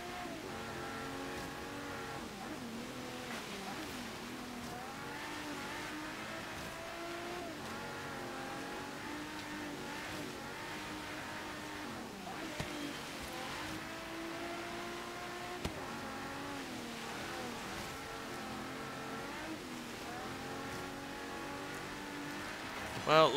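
A Bugatti EB110 with a swapped-in Veyron engine races a snowy hill climb in Forza Horizon 3. The engine's revs climb and drop repeatedly through gear shifts in a continuous, moderately loud drone.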